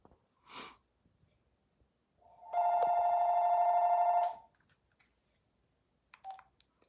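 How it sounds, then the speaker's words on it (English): A telephone rings once in a sustained electronic tone for about two seconds, loud and close, with faint clicks and a short tone before and after in an otherwise quiet room. "Sarah, call my house phone, and we're just gonna do this with you on the phone, on speakerphone"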